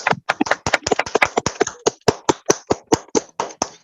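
Audience clapping at a success-plan motivational talk: sharp, distinct claps, first a quick cluster and then a steady, slower rhythm of single loud hand claps, close and clear, with no voices.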